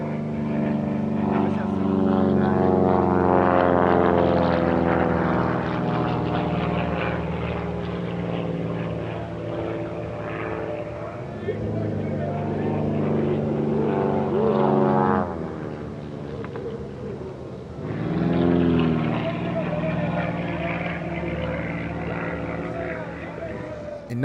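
T-34 propeller trainer flying at an airshow, a continuous droning engine and propeller note that swells and fades as it passes, with pitch shifts as it turns, heard under ongoing narration.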